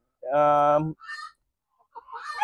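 Chickens on a poultry farm, birds being given antibiotics, let out a loud honking squawk, then a brief softer call and further clucking toward the end, each heard alone without talk.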